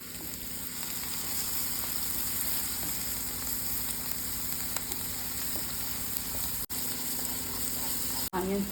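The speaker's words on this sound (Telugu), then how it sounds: "ఆనియన్స్ బ్రౌన్ వచ్చే వరకు వేడి చేద్దామండి." Onions fry in a pan with turmeric and salt, giving a steady, close, continuous sizzle with faint crackles and a couple of sharp clicks near the end, under occasional quiet speech.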